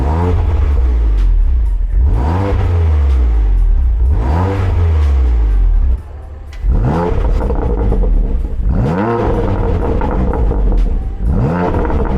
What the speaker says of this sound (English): So a comfort rev and then a traction off rev.